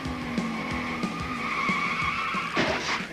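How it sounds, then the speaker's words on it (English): A stock car's tires squeal in a long skid over engine drone, ending in a sharp, loud impact as it hits the turn 1 wall, heard from the in-car camera. "Harry Gant and Alan Kowicki get together, and Harry Gant hard in the turn 1 wall"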